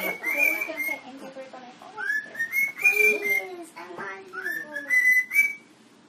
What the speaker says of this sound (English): Did you hear the bird? Hear the birdie?